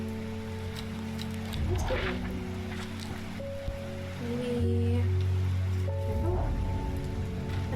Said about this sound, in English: Oh, it's raining. Delightful.